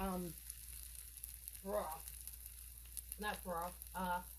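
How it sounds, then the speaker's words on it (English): Italian tomato sauce cooking in a pan gives a steady, soft, close sizzle and crackle running continuously underneath, while a person talks intermittently over it. "Now I'm going to let this cook for like a minute to 2 minutes"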